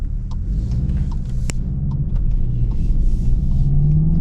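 A 2026 Volkswagen Jetta GLI pulls at full throttle, its front-wheel-drive turbocharged engine droning steadily from inside the cabin and swelling louder toward the end, with faint clicks and no speech.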